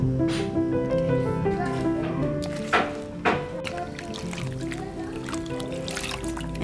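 Hand-dyed cotton thread for Mayan weaving is washed in water, giving close, continuous sloshing and squishing with dripping and trickling, and a couple of sharper splashes partway through.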